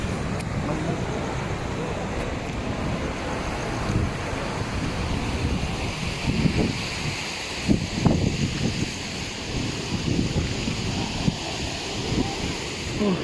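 Water flows at Rasi Salai dam as a steady broadband rush with wind buffeting the microphone, and someone talks over it throughout.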